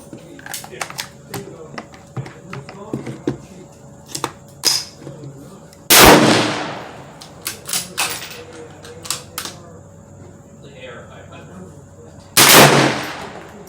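Two loud, sharp gunshots ring out about six seconds apart during a freestyle shooting competition at an outdoor range, with people talking and clicking handling noises between them.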